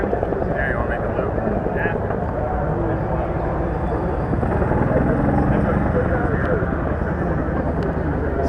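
A Cessna propeller spotting aircraft of the kind used in Vietnam flies close by, giving a loud, steady droning engine roar that runs unbroken throughout, with people talking over it.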